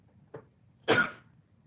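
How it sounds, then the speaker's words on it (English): A single sharp sneeze bursts out loudly and close, preceded by a brief small intake sound, then quiet room noise. "had to sneeze"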